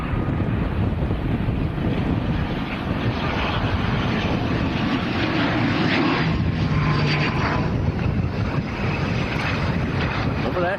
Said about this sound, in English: Another aircraft from Gran Canaria. Oh, he's fighting the wind.